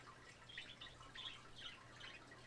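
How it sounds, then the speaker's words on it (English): Birds call outdoors in short chirping bursts, faint and repeated over a low steady background hum, with no talking. "Birds are probably gonna get a little loud."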